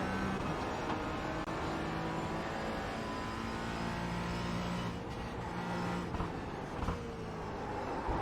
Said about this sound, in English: Tyres are still not in yet. You can hear them still sliding along the ground.